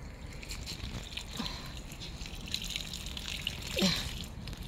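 Plain water is poured onto a potted Cuban oregano plant, a soft trickle and patter with a few brief splashes against steady background noise.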